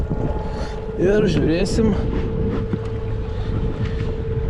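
A fishing boat's outboard motor drones steadily as the boat heads across a lake. A continuous mid-pitched hum runs through wind noise, and someone talks over it partway through.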